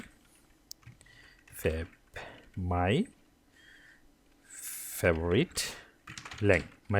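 Someone types JavaScript code on a computer keyboard, producing sparse, light key clicks between stretches of someone talking close to the microphone.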